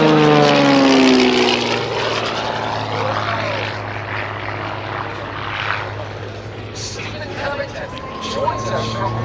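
A GameBird GB1 aerobatic propeller airplane dives from altitude at an air show, its engine roaring loud and steady with shifting pitch; distant crowd babble sits underneath.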